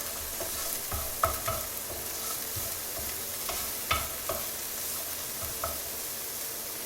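Garlic, ginger, jalapeno and green onions frying in a pan, a steady soft sizzle broken by several sharp scraping stirs and clinks of a utensil against the pan.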